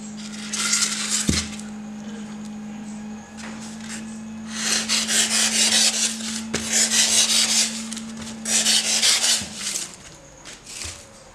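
A styrofoam flower pot being carved with a cutting tool in a carving class, with bursts of rough scraping and rasping strokes over a steady low hum, repeated several times at close range.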